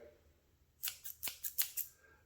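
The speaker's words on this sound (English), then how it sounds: "It's a herb cutter, herb scissors." Herb scissors snip fresh parsley repeatedly, about six crisp close cuts in a quick, fairly even rhythm against a quiet background.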